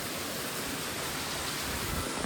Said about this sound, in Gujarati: વરસાદ ચાલુ થઈ ગયો છે જો છે ને બહુ ખતરનાક